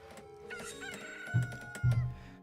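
A stock rooster crow sound effect in the video game Stonehearth, a short stylized burst with two louder clucking squawks near the end over a faint musical backdrop.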